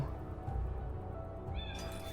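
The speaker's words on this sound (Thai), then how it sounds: "เรามายืนรอตรงนี้นะครับ รอน้องแมว ร้องล่อหุ่นให้" A cat in the video game Timelie meows to lure a patrolling robot. A single faint, short meow comes near the end over a steady low game background hum.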